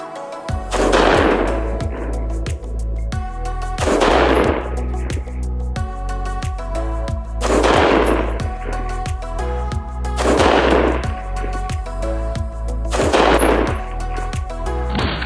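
Repeated single rifle shots from a budget nitride AR-15 with a non-free-floated barrel during an accuracy test at a range, five loud sharp reports spaced a few seconds apart, each with a ringing decay and steady background noise between.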